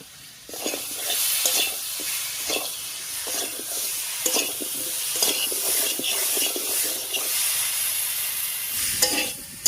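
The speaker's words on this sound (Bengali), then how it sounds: "লবণ আর হলুদ দিয়ে আমড়াটাকে একটু ভাজা ভাজা মতো করে নিয়েছি" Boiled hog plum frying with salt and turmeric in a pan for a sour-sweet pickle, a steady sizzle running throughout with repeated scraping stirs close by, no talking.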